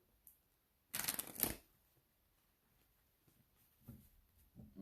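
A tarot deck is shuffled in one brief, crisp riffle burst lasting about half a second, followed by faint, scattered card handling in a quiet room.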